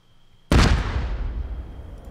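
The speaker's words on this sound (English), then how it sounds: "What was that explosion?" A single sudden loud grenade explosion in the video game ArmA 3 bursts after a quiet moment, then rumbles and decays slowly.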